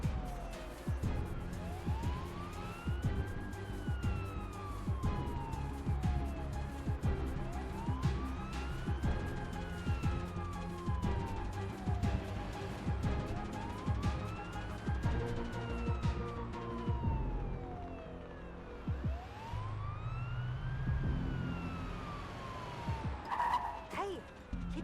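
An ambulance siren wails in repeated rising and falling sweeps while driving in the paramedic simulator game Ambulance Life, over a steady engine and road drone, with a brief voice and clatter near the end.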